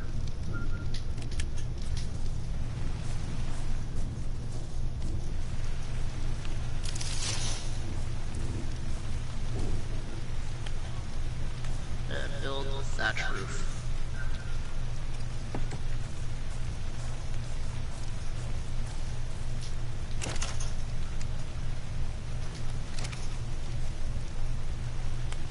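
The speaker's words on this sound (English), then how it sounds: "as soon as you said rain, it started raining." Steady rain and rolling thunder in the survival video game Ark Survival Evolved, a continuous downpour with a few rumbling thunder bursts and no talking.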